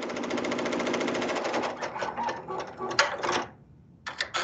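A sewing machine stitches a small test section for a tension check, a rapid even mechanical whirr running for several seconds, briefly stopping, then resuming in short bursts.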